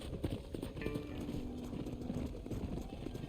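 Horse hooves clip-clopping at a steady gallop during a herding ride in the Western video game Red Dead Redemption, loud and continuous over a busy game soundtrack, with a brief whinny.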